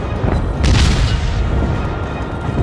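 Heavy ship guns fire in the naval game World of Warships, a loud deep booming rumble that swells to a peak and rolls on through the short stretch with no voices.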